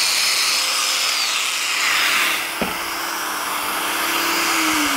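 Festool Domino 500 joiner runs steadily with a high whine while cutting a mortise in wood, a brief knock midway as the cutter plunges, loud and close without talk.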